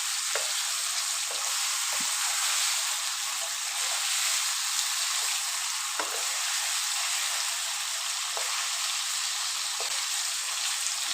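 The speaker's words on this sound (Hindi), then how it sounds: "जब तक इसका कलर लाइट गोल्डन हो जाता तब तक हम इसको भूनेंगे" Chicken pieces fry in a pan for a chicken curry, giving a continuous dense sizzle with soft periodic stirring knocks, steady and close throughout.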